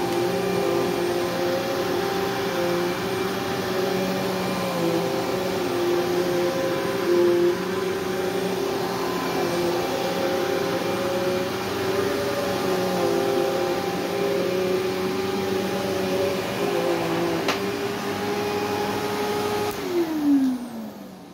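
Late-2000s Eureka The Boss SE 5855BZ-1 upright vacuum cleaner running steadily: a close, even motor drone with a humming whine that holds for about twenty seconds, then winds down in pitch as it shuts off, no talking.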